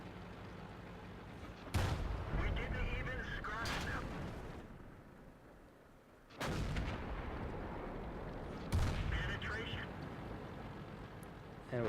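Tank cannon shots in World of Tanks, fired from a Super Pershing: two heavy booming blasts about five seconds apart, each followed by a long rumbling decay over continuous battle noise.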